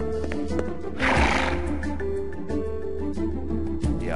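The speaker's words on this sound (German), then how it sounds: "Es gab schon bessere Ideen, als sich von einem Pferd treten zu lassen." A horse neighs loudly and kicks over the soundtrack of the adventure game Jack Orlando, with hoof clip-clops and thuds around it, close and prominent.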